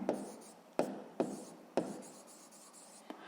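A pen writes on paper during a sixth-grade maths exercise, with four or five short scratchy strokes coming close by, each one starting sharply and then trailing off. There is no talk over the strokes.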